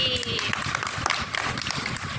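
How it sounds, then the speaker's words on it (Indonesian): A classroom of students claps for a presenting group during a group-guidance discussion session: a fairly quiet, continuous patter of many hands with voices mixed in. "tepuk tangan buat kelompok kelinci"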